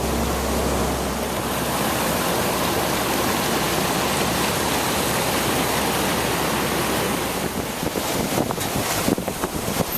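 Floodwater from an overflowing creek runs down a road in a loud, constant rushing roar, with some wind buffeting near the end and no one talking.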